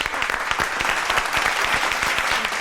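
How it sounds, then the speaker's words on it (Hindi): An audience at a comedy show claps loudly and steadily throughout, a dense close burst of applause with no pause. "तालियां बजाएं उसके लिए"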